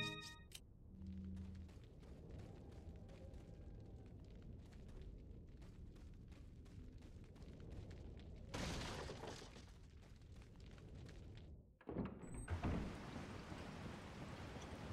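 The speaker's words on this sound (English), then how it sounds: "It's raining now." Rain falls in the video game Resident Evil 4 (2005) as a steady hiss of downpour with scattered drops and brief louder bursts of heavier splashing, playing alone without speech.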